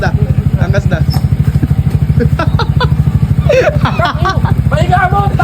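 A motorcycle idles close by with a steady, pulsing engine throb while a passenger gets on. Several people talk loudly over it.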